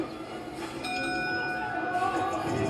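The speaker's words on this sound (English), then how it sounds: "There go the bell." A ringing bell sounds at a boxing match, a sustained metallic tone that rises partway through over the steady noise of the venue.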